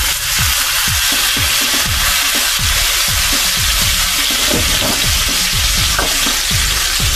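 Calf liver frying loudly in a hot pan with garlic, a dense, continuous close-up sizzle broken by repeated scraping stirs.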